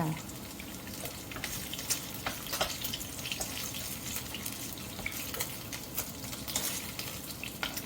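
Hot oil popping and spitting in a pan while frying, with a steady crackle and scattered sharp spatters throughout, fairly close, with a low kitchen rumble underneath.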